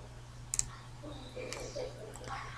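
A computer mouse clicks a download link on a Windows 8 PC, giving a quick faint double click up close, followed by soft background rustle in a quiet room.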